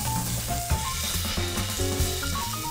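Onion, garlic and celery hitting a drizzle of olive oil in a pan, a dense continuous sizzle with soft stirring scrapes and clinks of a utensil throughout, close up and without talk.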